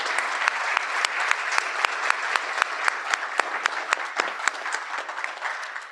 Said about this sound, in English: So let's give them both a round of applause before we vote.